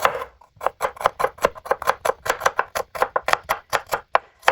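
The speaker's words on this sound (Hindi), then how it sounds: "प्याज के भी हम ब्रीक ब्रीक पीस काट लेंगे" A knife chops an onion into fine pieces on a cutting board, a quick steady run of about twenty crisp, close taps with no talking, made while preparing mustard greens saag.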